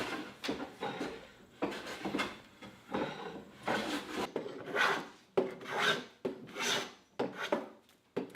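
A No. 4 hand plane shaves a wooden board flat, with repeated rasping strokes at a steady back-and-forth rhythm, about a dozen passes, close and clear with no voices.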